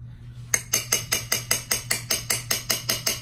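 Hair paint wax in several colors, including white, being mixed in a bowl, heard as about a dozen evenly spaced sharp clinking taps against the bowl in a steady rhythm, close and moderately loud over a low hum, with no talking.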